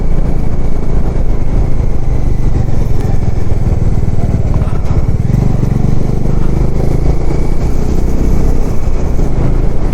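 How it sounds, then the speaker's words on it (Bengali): A Honda motorcycle, a Twister or Shine, rides a mountain road in Ladakh between Hunder and Pangong, its mid-pitched engine loud, close and steady throughout with a constant rumble and clatter. "কি বাইক নিয়ে ট্রিপ করছে দেখো, এটা সম্ভবত টুইস্টার, তা আবার না হন্ডা শাইন"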